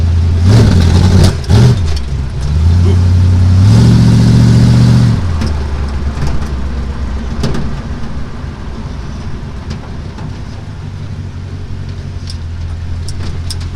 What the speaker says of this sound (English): Well, the truck's running.